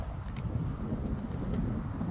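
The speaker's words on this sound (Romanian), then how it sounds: "că bate un pic vântul" Steady low rumbling wind buffets the microphone throughout in a garden, a continuous roar with no pauses.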